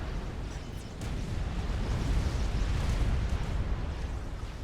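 Heavy artillery units in the real-time strategy game Supreme Commander being destroyed in battle, a dense continuous roar of overlapping explosions and booms rumbling loudly with no pauses, alone without speech.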